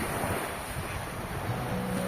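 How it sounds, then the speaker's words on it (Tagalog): Strong surf roars continuously nearby, with wind buffeting the microphone; no voices. "Grabe, lakas ng alon."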